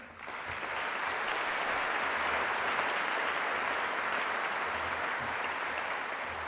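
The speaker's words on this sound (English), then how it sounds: "How about we applaud these," Audience applause at a Sydney Armenian Genocide commemoration, a dense, sustained wash of clapping that swells quickly after the first second and holds steady before tapering slightly at the end.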